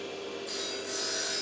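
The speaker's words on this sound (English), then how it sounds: "I'm just deburring the butt of the shaft." Short, soft rasping rub as the butt end of a golf club shaft is deburred in a club-building workshop, brief and close with a slight lift midway.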